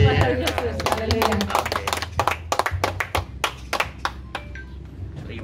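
Audience applause in a church mission session, a crowd clapping steadily with sharp individual claps, voices talking over it at the start.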